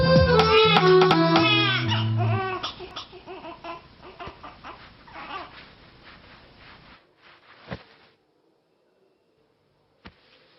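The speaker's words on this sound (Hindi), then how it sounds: "सुनाई नहीं दे रहा है क्या? बच्चा रो रहा है।" A baby wails loudly in rising, tonal cries for a few seconds, then breaks into fainter sobs and whimpers before trailing off into near silence with a couple of small sounds at the end.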